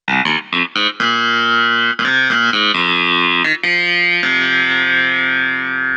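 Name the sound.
keyboard compressor effect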